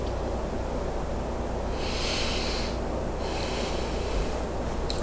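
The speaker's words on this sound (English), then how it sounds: "So I'm going to start now. Just by taking a deep breath." One slow, deep breath drawn in and released with a soft airy hiss, close and quiet over a low steady background hum.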